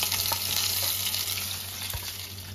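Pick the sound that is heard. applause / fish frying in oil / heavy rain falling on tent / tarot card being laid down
fish frying in oil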